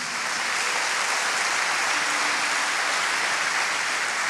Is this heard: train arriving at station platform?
no